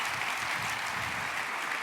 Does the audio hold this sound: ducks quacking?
no